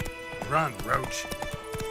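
Roach the horse gallops with steady clip-clop hoofbeats and a whinny in The Witcher 3: Wild Hunt, the hooves close and prominent while a voice talks over them.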